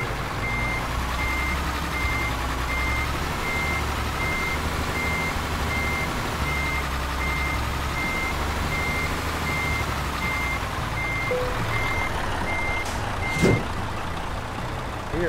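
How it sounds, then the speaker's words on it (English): Reversing beeps from a truck backing up to a fuel trailer in Euro Truck Simulator 2, a steady train of evenly spaced high beeps over a loud idling diesel engine rumble, with a brief air hiss near the end. "Keeping an eye as I back out into this fuel trailer."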